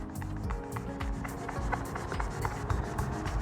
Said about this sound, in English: And the squeaking sounds like this.